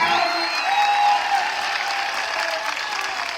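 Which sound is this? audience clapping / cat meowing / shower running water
audience clapping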